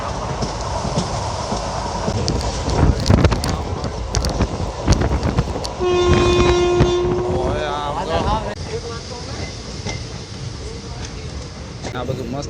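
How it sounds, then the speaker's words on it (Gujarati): A passenger train runs on the Dhola to Veraval line, heard from inside as a steady rumble and rattle with wind noise. A horn sounds midway, and people talk over it. "આ બધું મસ્ત ડુંગરા અમારી ટ્રેન હાલી જાય છે."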